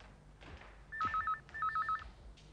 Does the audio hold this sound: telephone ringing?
yes